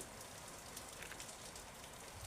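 Light rain patters softly and continuously on surfaces, a faint, even hiss with scattered drops.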